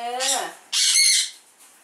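Parrots and cockatiels in an aviary in Thailand give two loud, harsh squawks close by, each lasting about half a second, the first falling in pitch and the second louder and shriller, with no talking.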